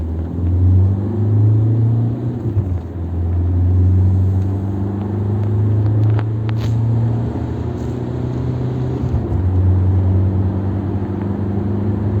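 A 2006 Opel Corsa C Silverline with a 1.3 CDTI diesel engine, heard up close as a loud, steady rumble that rises and falls in pitch through several rev changes, with no speech.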